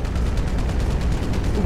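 Dense, sustained gunfire in the video game GTA 5, with rapid overlapping shots forming a continuous loud barrage throughout.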